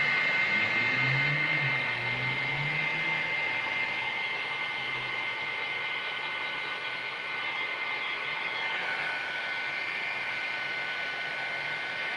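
A hair dryer blows steadily at close range to dry Liquitex acrylic paint in an art journal, a continuous loud whooshing drone that stays even for the whole stretch, with no talking.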